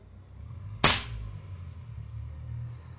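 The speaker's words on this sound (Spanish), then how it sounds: "vamos a hacer un disparo a ver cuánto acusa con 18 grain el Shar CO2" A single sharp crack from an old Shark CO2 air rifle, .22 (5.5 mm) caliber, firing an 18-grain pellet, one close loud report decaying quickly into a quiet outdoor background.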